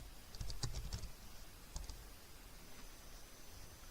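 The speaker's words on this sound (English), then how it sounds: "This time I'm going to type it in." Keys typed on a computer keyboard in a quick burst of close clicks, then a few more scattered taps and a pause, heard alone without talk.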